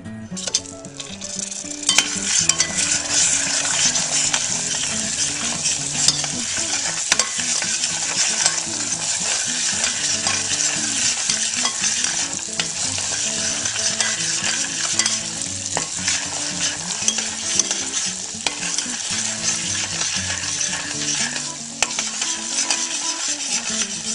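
Vigorous whisking of a stick of butter into browned, caramelized sugar in a pan for caramel apple crisp, a steady bubbling sizzle with brisk scraping strokes, loud and continuous with no voices.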